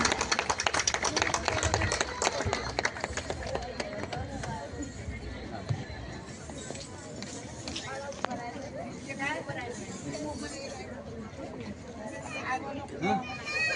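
Audience applause at a Bhim Jayanti 2025 celebration: a dense burst of clapping at the start that thins into steady crowd babble and chatter.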